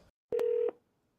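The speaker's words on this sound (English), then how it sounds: "Pick up the phone and start dialing." Telephone keypad being dialed, a single loud electronic DTMF tone lasting under half a second, preceded by a brief click and followed by near silence.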